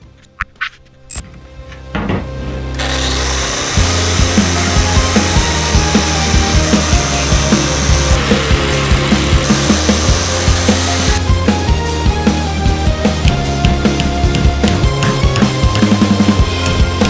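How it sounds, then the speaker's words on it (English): Angle grinder cutting and grinding out squashed rods on a Chevrolet Suburban, a loud continuous harsh whine after a few sharp clanks, sustained for most of the span with slight pitch wavers. "So I'm just going to hit these with a grinder, pop them out"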